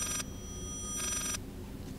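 An old-school telephone rings in the Layers of Fear horror game, two bright electric bursts in a steady repeating pattern over a low droning background, fairly loud and close with no talk.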